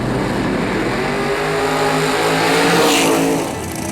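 A drag racing car roars down the strip during the Canadian Bracket Super Tour final at Luxville Dragway, its engine droning loud and steady, swelling as it passes close and then fading.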